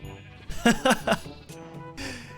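Sheep bleat in Minecraft, three quick wavering bleats close together followed by a couple of softer ones, with no talk over them.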